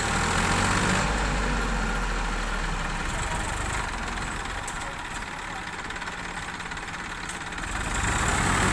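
Two tractors towing together, their engines idling with a steady low rumble that holds throughout at a constant close level.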